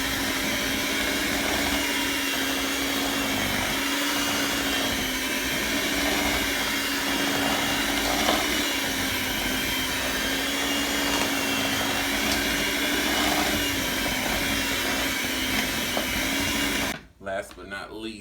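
An electric mixer beating oatmeal cookie dough with raisins, a steady loud motorized whir running unbroken for many seconds before cutting off abruptly near the end, with a voice speaking faintly at moments.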